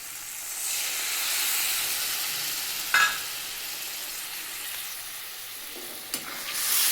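Pomfret curry masala with cashew, tomato and melon-seed paste sautés in a pan, giving a steady, moderately loud hiss and sizzle with an occasional sharp clink of a spatula.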